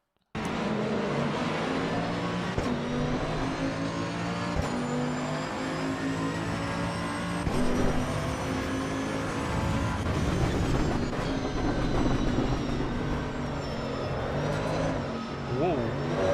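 Race car engine in the video game Assetto Corsa EVO, a loud sustained roar with rising and falling revs as the car accelerates and shifts, filling the whole stretch with a harsh buzzy tone.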